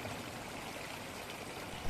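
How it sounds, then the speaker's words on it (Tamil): A rocky stream at Puliyanjolai near Trichy, its water rushing and splashing against the rocks in a steady, close, continuous wash with no voices. "இந்த மாதிரி பாறைகள்கிட்ட மோதி தண்ணி ஓடிக்கிட்டு இருக்குதுல்ல"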